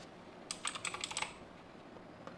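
A short burst of light key clicks as a search is typed on a computer keyboard, faint and close, then quiet.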